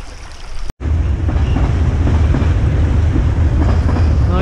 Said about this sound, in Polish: No i mamy pociąg